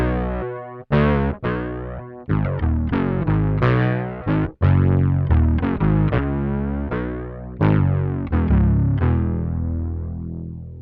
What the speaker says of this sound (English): I can get that growly synthy sound without having to use a fuzz pedal with it